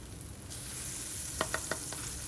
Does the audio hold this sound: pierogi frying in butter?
yes